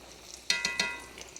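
Country fried steak sizzles and bubbles in a hot pan, a few quick crackling pops over a brief, soft frying hiss.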